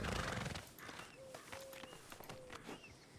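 Hooves of a Morgan horse walking in the video game Red Dead Redemption 2, soft irregular clip-clop steps close by, with brief whinny-like tonal calls over a quiet outdoor ambience.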